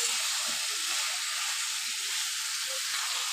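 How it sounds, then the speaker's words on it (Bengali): Cut beans, potato and eggplant fry in a spice paste in a pan, a steady close, even sizzle and hiss throughout with faint soft stirring scrapes. "দিয়ে দিব কেটে রাখা সিম, আলু আর বেগুন, ভালোভাবে কষিয়ে নিব"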